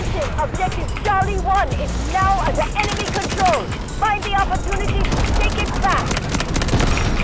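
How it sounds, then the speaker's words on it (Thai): Submachine gun fire in Delta Force, rapid bursts of shots over steady game noise and battle ambience, with a voice talking throughout. "ลองช็อตครับทุกคนยิงในระยะไกล"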